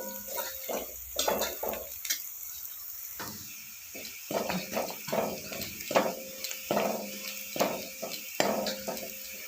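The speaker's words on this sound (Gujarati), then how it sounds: "સરસ મજાની આપણે ડુંગળી શેકાઈ ગઈ છે" Onions frying in a pan for rajma, with clinks and scrapes of stirring against the pot over a soft, steady sizzle, close and moderately loud, no talking.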